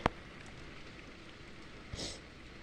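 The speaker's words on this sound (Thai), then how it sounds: "ฝนมันหนักมากอะ่ะโห" Heavy rain falls in Chonburi, Thailand, heard from indoors as a soft, steady wash of hiss with a couple of sharp taps and a brief swell near the end.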